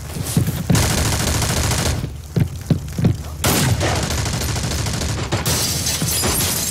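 Bursts of gunfire in a multiplayer shooter video game set in a slaughterhouse: several sharp rapid volleys with short gaps between them, loud and close, and no talk over them.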